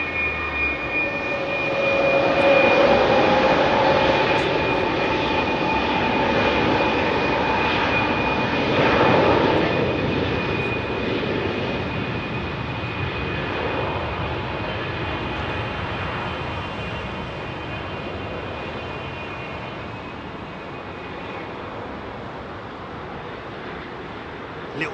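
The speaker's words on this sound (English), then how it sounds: "Little burst of power on those engines is enough to send her up to the front line" A propeller aircraft's engines drone steadily, swelling in power then easing back, heard from nearby outdoors with a constant hum.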